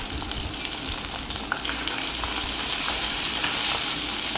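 Ginger and garlic fry in hot oil for a Kerala dish, producing a loud, continuous close sizzle that holds steady throughout with faint crackling pops.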